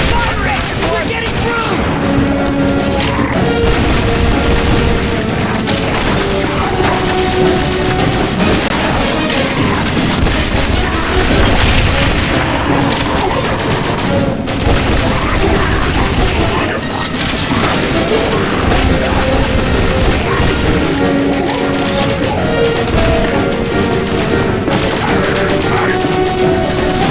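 Heavy gunfire and explosions from The Bureau XCOM Declassified video game, with loud continuous rattling shots and booming blasts running the whole time, while game voices shout over the battle.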